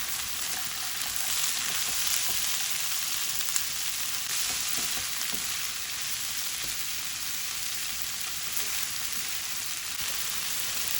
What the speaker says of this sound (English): Continue to stir fry all the fresh vegetable, then add the frozen one.